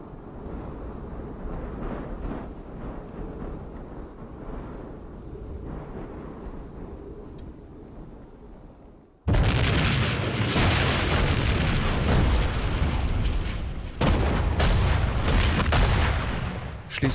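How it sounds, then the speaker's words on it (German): WWII artillery fire and explosions: a low rumbling barrage gives way abruptly to a loud, sustained roar of blasts, with a fresh heavy burst partway through. "Erst Artilleriefeuer, dann massive Panzerangriffe."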